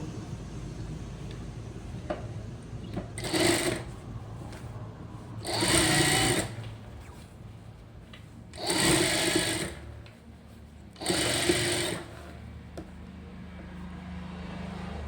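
Sewing machine stitching the lining of a blouse, running in four separate loud bursts of a couple of seconds each with quieter background hum in between, no talking.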